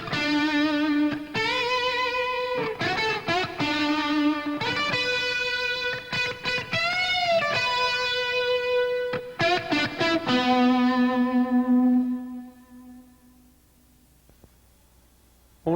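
Electric guitar riff recorded onto tape and then doubled by playing the same part over it. The distorted, chorused riff rings out loud with choppy chords and ends in a long sustained note that fades to silence.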